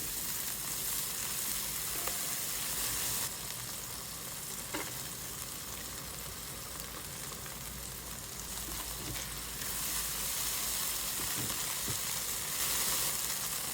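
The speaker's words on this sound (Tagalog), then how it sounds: "igisa lang natin dito yung natira nating sibuyas at ng bawang for a few seconds" Onion and garlic sautéing in oil in a pan for pancit canton guisado, giving a constant close sizzling hiss with a few scattered stirring clicks.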